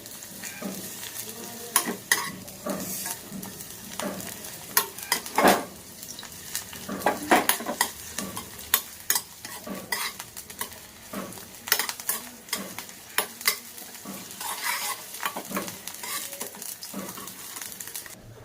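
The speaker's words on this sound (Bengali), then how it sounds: "ফুলগুলোকে দিয়ে দেব দিয়ে ভালো করে স্টেয়ার করব লো ফ্লেমে" Flowers stirred in hot oil over a low flame for a hair oil preparation, irregular scraping and clinking of a spoon against the pan with a soft sizzle underneath, close and continuous.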